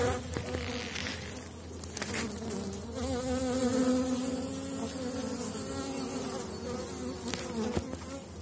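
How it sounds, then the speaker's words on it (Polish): Dense, steady buzzing of many bees swarming close by at an apiary hive on a rapeseed field, a continuous droning hum with occasional louder passes near the microphone. "Pełno pszczoły."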